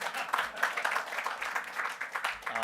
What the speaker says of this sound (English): A round of applause will be good at this point.